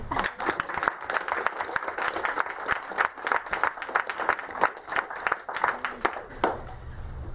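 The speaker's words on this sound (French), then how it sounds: "Applaudissements." Audience at a film festival award ceremony claps in a moderately sized room, with individual sharp hand claps standing out in an uneven, fairly close applause that thins near the end.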